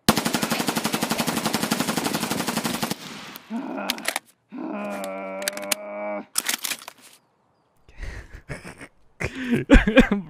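Rapid automatic gunfire in the Escape From Tarkov shooter on Shoreline, a dense burst followed by scattered separate shots and short volleys, loud and close with brief gaps between.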